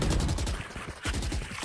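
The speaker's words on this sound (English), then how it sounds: "Now his gunfire tells them there's multiple people outside." Close, loud bursts of rapid automatic gunfire in a video game tournament match, firing in quick staccato strings with a brief lull partway through.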